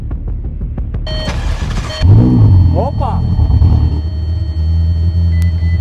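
A Ferrari engine cranks and catches with a sudden loud burst, then settles into a rough, uneven idle where not all cylinders fire at first, close by, with a brief shout and talk around it.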